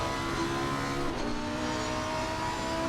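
A Lamborghini race car engine from a racing video game at Zolder circuit drones steadily at high revs, tonal and continuous, through a chicane with no voices over it.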